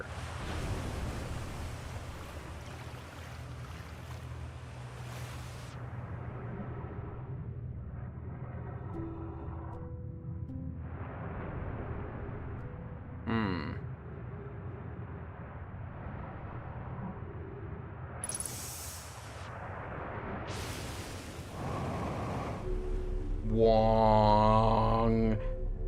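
Water and waves in Dishonored 2, a broad rushing wash of surf with swells rising and falling over about 25 seconds, plus a few brief sharp game sounds and a louder chirping flurry near the end.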